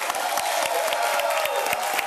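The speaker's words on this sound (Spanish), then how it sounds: "un aplauso para Manuel" A studio audience applauds for a TV host, a dense wash of clapping with some cheering mixed in, steady and fairly loud over the short stretch.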